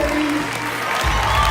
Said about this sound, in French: Alors, sous un tonnerre d'applaudissements, je voudrais accueillir Monsieur Philippe Lachaud.